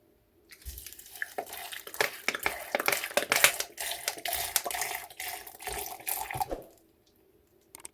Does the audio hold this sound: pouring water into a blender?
yes